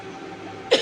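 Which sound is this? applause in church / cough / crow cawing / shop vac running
cough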